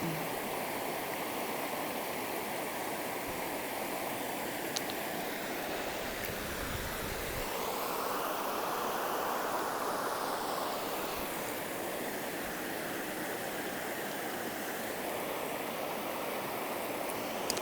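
A river flows steadily through ancient woodland, a continuous rushing wash of water close by, fairly soft and unbroken, with no voices.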